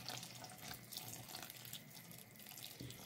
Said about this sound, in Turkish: Şimdi de şeyimizi karıştırarak çorbamızı üstüne ilave ediyorum.